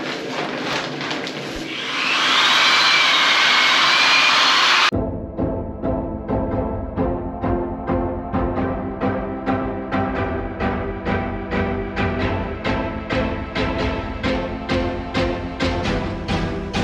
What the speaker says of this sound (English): we're taking these wire wheels here, and we're gonna smack this bad boy with them until the rust goes away.